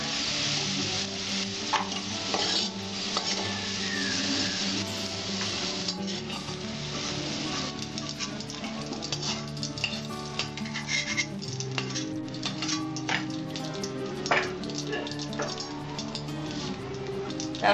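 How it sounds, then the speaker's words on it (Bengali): Potatoes and bitter gourd sizzle in oil in a pan for Bengali-style fried bitter gourd and potatoes, with a steady crackle and occasional stirring and utensil scrapes up close, no talking. "আমি আবার উচ্ছার সঙ্গে আবার একটু ভেজে নেব।"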